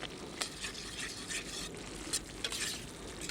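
Finely ground coffee is stirred into a simmering chicken tagine: soft, wet stirring scrapes over a low, steady bubbling sizzle, heard close and fairly quiet, with a few brief sharper scrapes.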